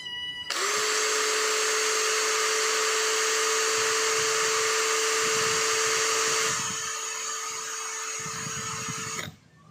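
A cordless CD334H impact drill spins steadily at speed setting 2, a loud continuous high whine that holds level for about six seconds, eases slightly quieter, then stops abruptly.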